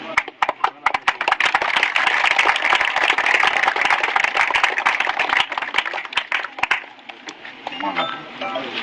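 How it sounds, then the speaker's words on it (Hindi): Audience clapping at a village panchayat welcome event honouring a local BDC member, a burst of dense, loud applause that thins and fades toward the end, no talk over it. "आप लोग तालियां बजा सकते"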